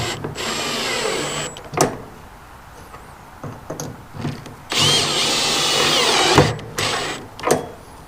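A power drill drives screws into a metal wheel bracket for a chicken tractor wheel kit, with two long whining bursts of the motor separated by short trigger blips, loud and close with no talk.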